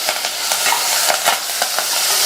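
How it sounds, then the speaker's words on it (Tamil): Chopped onion, crushed garlic and curry leaves sauté in hot oil, giving a loud, continuous close-up sizzle with brief scraping stirs throughout. "இந்த வெங்காயம் பூண்டெல்லாம் நல்லா வதங்கி வரட்டும்."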